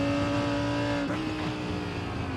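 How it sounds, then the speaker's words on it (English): Race car engine in an IMSA sports car racing game at Road Atlanta, a loud steady high-pitched engine whine up close with a faster car approaching; the pitch dips and shifts about midway through. "there's a faster car approaching"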